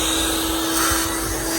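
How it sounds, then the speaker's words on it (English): A vacuum cleaner runs at a steady, loud, close whine and roar while clearing dust from Honda Odyssey rear brake parts, with no talk. "I'm just going to vacuum it again so it doesn't go all over the place."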